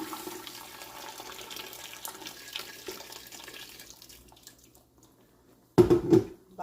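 Water poured over semolina couscous to moisten it, a short loud splashing gush near the end after a low, steady hiss of background water and kitchen noise.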